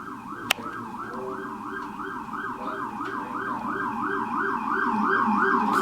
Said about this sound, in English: Got an ambulance?